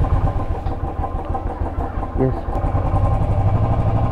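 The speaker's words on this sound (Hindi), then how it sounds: "बहुत दिनों के बाद अपनी बाइक चालू कर रहा हूँ मैं" A motorbike that has sat unused for many days is started up, its engine catching and settling into a close, rough idle that grows steadier toward the end, with a voice briefly speaking over it.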